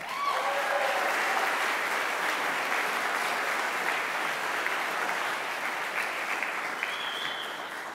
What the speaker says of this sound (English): Let's give one more hand and a round of applause for our Xavier University interns.